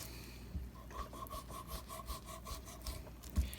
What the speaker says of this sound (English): So I just come in with my fillet knife and just trim it off like that.